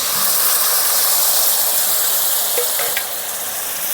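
Tomato paste, turmeric and salt sizzling in hot oil with fried masala for a rui fish curry, a steady loud frying hiss throughout with a few faint clinks of stirring.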